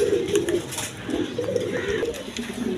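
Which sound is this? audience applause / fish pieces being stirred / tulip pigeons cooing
tulip pigeons cooing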